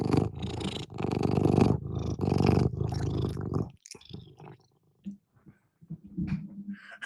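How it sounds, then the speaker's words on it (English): A cat purrs loudly and close up in rhythmic rumbling bursts, then quieter rustling and soft scattered sounds follow. "See if you can hear her purring."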